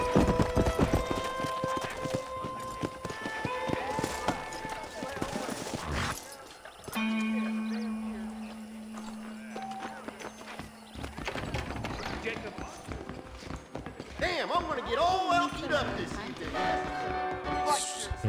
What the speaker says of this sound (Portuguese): O cavalo ele corre mais rápido aqui nas ruas, né?